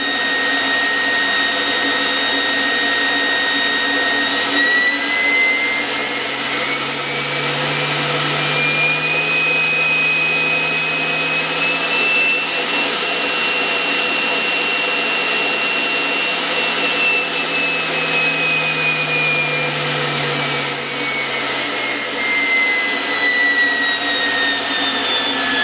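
A high-power dust extractor roars loudly and steadily at 10,000 RPM, its whine rising slightly mid-run before easing back.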